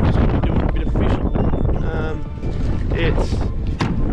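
Strong wind at Ansons Bay, Tasmania, buffets the microphone in rough gusts while someone talks over it.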